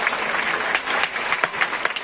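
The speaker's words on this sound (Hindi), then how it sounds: "जोरदार ताली बजाओ।" Loud clapping from an audience of children at a school camp gathering, a dense sustained burst of applause that turns choppier with scattered sharper claps toward the end.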